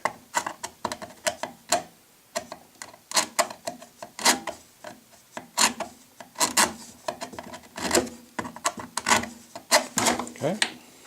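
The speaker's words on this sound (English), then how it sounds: "I'm going to take the forceps and just rub that, push that Velcro down nice and tight." Metal forceps rub and press Velcro down tight while a receiver is installed in a K60 Kadet LT-40 model airplane, making a close, rhythmic scratchy rasping repeated many times over several seconds.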